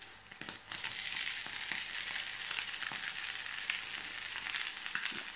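Rice tipped into a hot pan with shrimp and pineapple for fried rice, a short thud and then a steady crackling sizzle with light scraping, close and moderately quiet.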